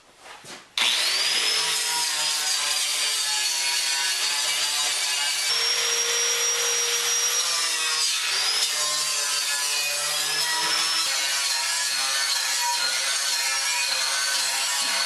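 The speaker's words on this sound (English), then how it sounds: "Now I'm going to take a minute and clean up all the welding spatter on these. Buff up the edge I'm going to weld to" Power tool buffing welding spatter off the edges of steel plates for a backyard firepit build, a steady loud grinding whine running continuously after a brief start, with a few pitch shifts as pressure changes.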